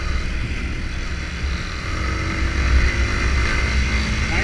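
A Yamaha Fazer 250 cc motorcycle being ridden, its engine a continuous low drone mixed with loud wind rush from riding, slightly swelling as it picks up speed, with no talking.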